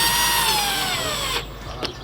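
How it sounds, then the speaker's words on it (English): An impact driver runs a screw back into a Jeep JK Wrangler tail light, a loud close whirring burst with falling pitch that cuts off after about a second and a half, followed by a brief click. "So if you're using an impact, just go slow."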